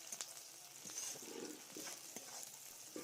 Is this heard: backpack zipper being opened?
no